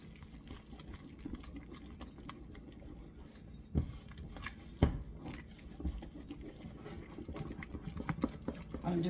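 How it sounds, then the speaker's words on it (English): Wet, gloopy stirring of a peasant black bread dough mixture in a bowl, with irregular sloshes and a couple of sharper knocks, heard under a person talking. "What I'm doing is mixing everything before I start adding the flour"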